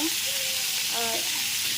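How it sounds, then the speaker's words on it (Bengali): Steak frying in ghee over a high flame, a steady close sizzle with a few faint stirring scrapes running throughout. "আর হাই ফ্লেমে ভাজতে হবে"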